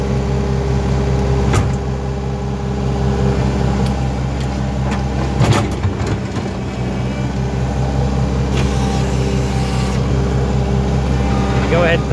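A skid steer engine runs steadily and loud throughout, pushing extra brush back onto a controlled brush fire, with a continuous low drone and brief clattering bursts around the middle.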